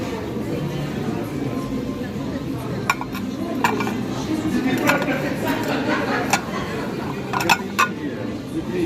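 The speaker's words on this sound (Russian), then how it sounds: "вот красивые две тарелки" Plates and crockery handled at a flea market clink and knock with sharp scattered chinks over a murmur of talking voices and steady background noise.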